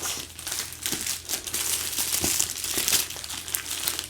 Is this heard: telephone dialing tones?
no